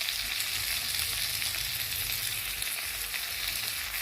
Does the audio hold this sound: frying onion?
yes